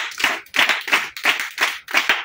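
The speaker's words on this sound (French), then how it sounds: "Acclamons pour Jésus." Congregation at a Beninese church teaching clapping in a steady, loud rhythm, bursts of hands striking together in quick repeated groups, close and continuous with no talk over it.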